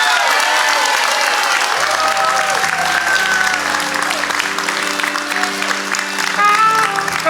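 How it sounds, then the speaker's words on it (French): A crowd at an inclusion gala applauds honouring women, sustained loud clapping from many hands with a few cheers mixed in, and a low musical tone rising underneath partway through. "Tout simplement, une bonne main d'applaudissements pour ces femmes."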